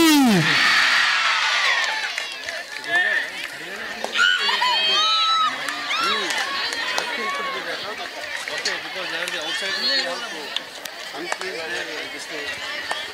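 Spectators at a women's open kabaddi quarterfinal tournament shout and cheer in a loud, continuous roar, with excited voices and whistles rising over the crowd noise throughout.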